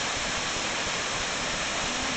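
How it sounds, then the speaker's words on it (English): Waterfall pouring in a steady, dense roar of rushing water, loud and close, with no voices. "that's the waterfall Danny found"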